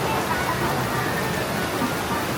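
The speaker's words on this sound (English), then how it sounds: "it's really, really rainy" Heavy rain pours steadily at Universal Studios Orlando, a dense, even hiss that stays loud and unbroken throughout.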